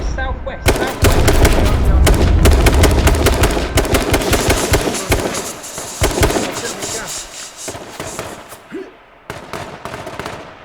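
Gunfire in the survival game H1Z1 rings out in dense rapid bursts and single shots, loud and close at first and thinning out later, with people talking over parts of it.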